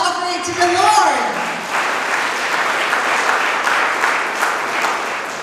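An audience at a Christian talk breaks into loud, continuous clapping that swells just after a voice fades out at the start and then holds steady.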